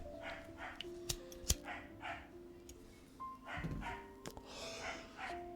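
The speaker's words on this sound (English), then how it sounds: "He's going to be barking and running around the house with that ball," A dog excited over a ball barks faintly in the background of a quiet room, giving a few scattered yips and short barks at a distance.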